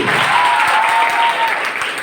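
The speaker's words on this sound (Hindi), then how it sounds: "तो तालियां होनी चाहिए टीचर्स के" Applause from an audience for the teachers at a women's government college cooking competition, a dense steady burst of clapping lasting about two seconds, loud and close with no talking.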